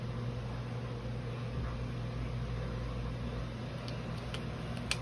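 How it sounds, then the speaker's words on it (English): A household dishwasher runs steadily in the background, a continuous low hum and broadband wash with no speech over it. "my apologies if you can hear my dishwasher in the background."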